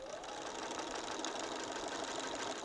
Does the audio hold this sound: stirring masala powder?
no